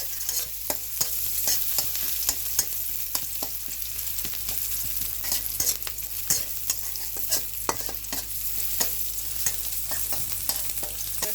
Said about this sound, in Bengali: সাদা সয়াবিন তেলের মধ্যে হচ্ছে পেঁয়াজ দিয়ে দিলাম এখন একটু ভেজে নিচ্ছি